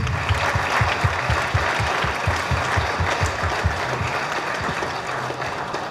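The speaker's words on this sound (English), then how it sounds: "I think the Excellency deserves another round of applause, please" A seated audience at a formal function applauds for a dignitary, many hands clapping briskly and steadily in a loud, continuous burst with faint room rumble beneath.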